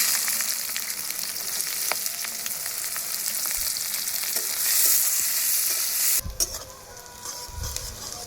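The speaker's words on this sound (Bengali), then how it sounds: "পেঁয়াজ ভাজা হয়ে গেছে দিয়ে দেবে এবারে রসুন বাটা" Onions frying in mustard oil with bay leaf, dried red chilli and whole garam masala over a wood-fired clay stove give a loud, steady sizzle with stirring scrapes; the sound thins and shifts near the end.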